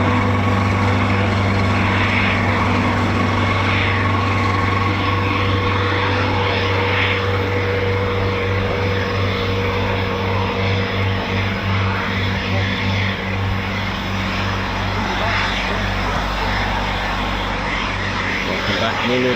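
A Eurofighter Typhoon FGR4 fighter jet landing at RAF Coningsby, its engine roar a loud, steady broadband rumble that fills the whole stretch with a strong low-end drone.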